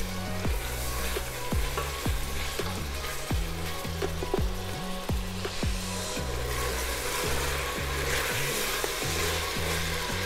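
Ginger and garlic fry on a medium flame for Daal Gosht, a steady close sizzle broken by repeated knocks and scrapes of stirring, with no talk.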